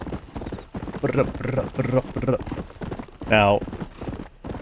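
Hooves of a fast golden horse clip-clopping through town in the video game Red Dead Redemption, a steady rhythmic beat heard under a man's close, continuous talking.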